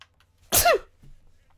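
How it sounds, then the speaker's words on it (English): A single sharp sneeze, close and fairly loud, bursting out briefly with a falling vocal tail, followed by a soft breath, in an otherwise quiet room. "I sneeze like a little girl"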